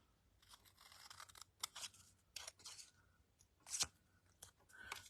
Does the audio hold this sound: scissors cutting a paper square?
yes